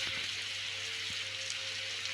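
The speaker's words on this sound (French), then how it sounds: "Il pleut." Steady rain hiss in a video game, soft and continuous with faint drop patter and a low background hum, heard alone without voices.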